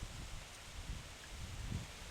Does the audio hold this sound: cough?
no